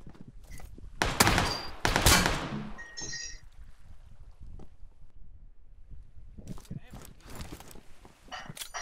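Bursts of PUBG Lite gunfire crack in two loud clusters early on, then come back as rapid shots near the end. Quieter stretches and a voice sit in between.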